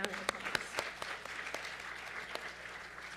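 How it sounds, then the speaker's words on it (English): A round of applause at a Citizenship Now training session follows two presentations: a modest audience claps, sharp individual claps standing out at first, then a steady patter fading down. "another round of applause"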